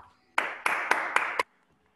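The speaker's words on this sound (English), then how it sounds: "A round of applause to Mr." Five quick, crisp hand claps in a steady rhythm, heard close and clear over an online English class for fifth-grade students, with near silence before and after.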